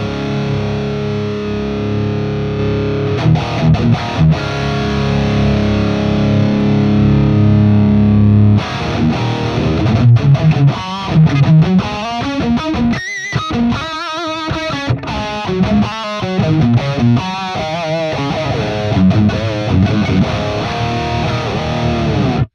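Heavy, crunchy high-gain electric guitar runs through a Fractal 5150 100-watt Stealth Blue amp model, first holding sustained chords, then chugging through choppy palm-muted riffs and fast phrases, loud and upfront with no voices.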